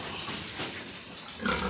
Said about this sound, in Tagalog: Quality talaga ang mga baboy din eh